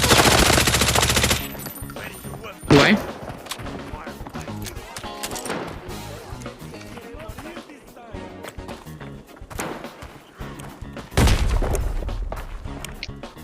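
Bursts of rapid gunfire and loud blasts from the video game Arena Breakout, with heavy volleys at the start and near the end and scattered shots between.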